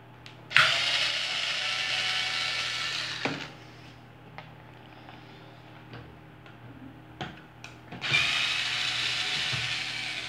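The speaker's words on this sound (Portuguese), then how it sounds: "Só é tirar os parafusos." Screws are backed out of the oscillation gearbox of a Mallory fan with a power screwdriver, two loud bursts of whirring at the start and end, separated by quieter clicks and small taps of the housing being handled.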